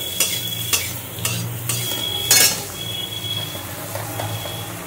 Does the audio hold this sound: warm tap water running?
no